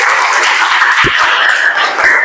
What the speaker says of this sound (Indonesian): Tepuk tangan dulu buat si Aurel